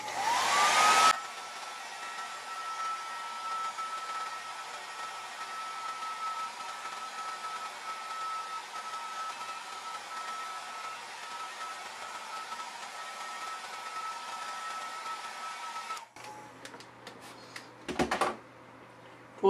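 Heat gun set high, blowing hot air to dry a surface: a steady, loud broadband rush with a faint whine, running continuously for about fifteen seconds before cutting off, then brief handling clatter.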